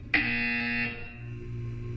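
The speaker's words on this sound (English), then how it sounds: "You will hear a buzzer." A single loud electronic buzzer in Portal 2 sounds abruptly, holds a steady tone for under a second, then cuts off, leaving a low hum.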